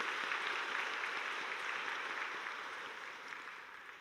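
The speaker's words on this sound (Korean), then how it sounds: "우리 박수 한번 칠까요?" A church congregation applauds a soloist after a Psalm 23 solo during a Sunday service: dense, steady clapping from many hands that slowly fades, with no talking.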